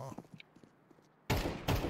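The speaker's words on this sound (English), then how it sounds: "I heard gunshots." Gunfire in the Counter-Strike 2 video game, a loud burst of shots erupting suddenly after a quiet stretch, with a second loud burst following shortly after.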